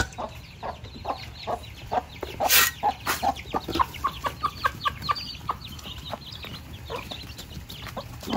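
Chickens come in to feed at midday on a farm, a steady run of short clucks and calls from several birds at moderate distance, with one brief louder squawk.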